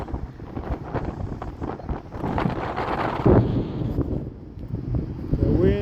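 Gusty outdoor wind buffets the microphone in uneven, rumbling surges, with a couple of brief voice fragments breaking through.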